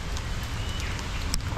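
Rain falls at Zoo Miami, a steady, close wash of broadband patter and hiss with a few sharper drips, continuous through the short stretch.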